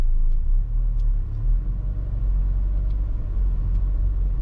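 A 2010 VW Fox Prime with iMotion automatic transmission pulls away from a standstill, a deep steady engine rumble heard from inside the cabin with light mechanical ticks and no talking.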